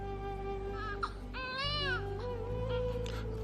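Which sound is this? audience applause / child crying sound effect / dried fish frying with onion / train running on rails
child crying sound effect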